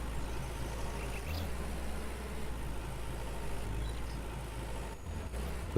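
A tractor engine idles in the Farmer's Dynasty farming game, giving a steady, close, low rumble that holds unbroken throughout with a few faint clunks over it.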